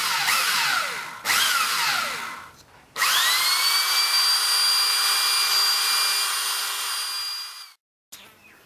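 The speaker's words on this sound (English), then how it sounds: "use a tiny drill to drill your first pilot hole" A small power drill whines steadily at high pitch for several seconds, drilling a pilot hole in a fiberglass boat bow, after two shorter revving bursts at the start, then stops abruptly.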